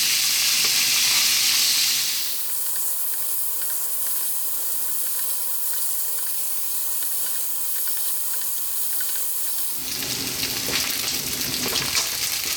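Bacon and garlic frying in a pan for a tomato pasta, a loud hissing sizzle that drops to a quieter simmer for several seconds, then surges back as the pan is stirred, close and without talking.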